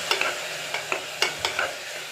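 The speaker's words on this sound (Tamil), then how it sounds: "போட்டு நல்லா வதக்கிடலாம்." Vegetables sautéing with tomato, curd and salt in a pan, a close soft sizzle broken by quick scraping stirs of a spoon in an uneven rhythm, with no voices.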